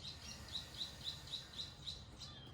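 Birds chirp outdoors during a morning yoga session, a single faint, high call repeating in an even rhythm roughly every quarter second over quiet background ambience.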